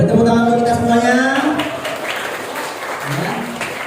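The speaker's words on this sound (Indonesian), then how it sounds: "Boleh tepuk tangan untuk kita semuanya." An audience at a school character-building session for sixth graders claps together in a broad burst of applause that swells briefly and then fades, mixed with crowd voices and a spoken voice at the start.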